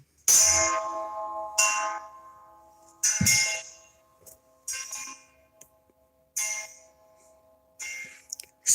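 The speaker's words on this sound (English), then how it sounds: "Original doorbell, 3 chime." An original 1970s three-chime doorbell in a kitchen rings repeatedly, each bright clanging strike decaying with a long metallic tail, close and loud with pauses between hits.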